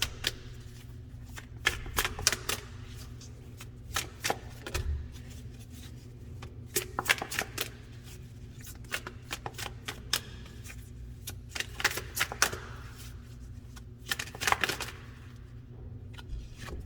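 Tarot cards are shuffled by hand nearby, giving repeated quick riffling and snapping bursts in irregular clusters over a low steady background hum.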